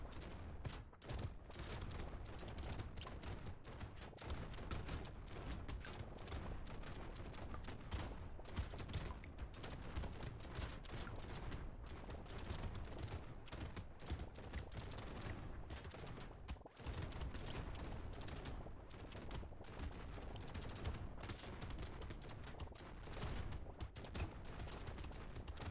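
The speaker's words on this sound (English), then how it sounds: "I have a lot of shotguns." Dense, relentless volleys from many shotguns in the arena shooter Brotato during a horde wave, a continuous crackling barrage of overlapping blasts that barely lets up for the whole stretch.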